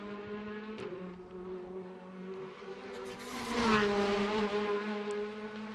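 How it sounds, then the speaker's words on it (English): A WTCC touring race car during qualifying at the Macau street circuit, its engine droning and rising as the throttle opens through slow and medium corners, moderately loud with pitch swells and a louder surge midway. "Listening to the throttle as he chases it through the slow and medium speed corners."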